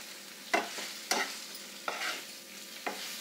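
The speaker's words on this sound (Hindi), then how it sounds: "अब इसके अंदर हम कटी हुई अरवियाँ डाल देते हैं और इनको अच्छे से मसाले में मिला लेते हैं।" Cut arbi (taro root) stirred into frying masala in a pan: four sharp spoon scrapes at uneven intervals over a faint, steady sizzle, close by with no talking.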